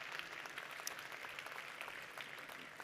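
Faint, steady round of applause from a conference audience at a climate and sustainability session, continuous dense clapping heard from a distance with no talking over it.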